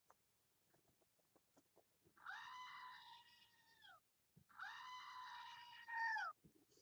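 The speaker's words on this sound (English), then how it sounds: "It's a screaming goat." A small screaming goat novelty toy lets out two loud, drawn-out bleating screams, each about two seconds long, separated by a short pause, with faint handling clicks before and between them.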